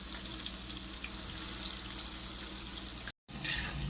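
Pakoras frying in hot oil for an iftar meal at Masjid Nabawi in Madina, a soft, steady bubbling sizzle heard from nearby, briefly cut out before resuming slightly louder.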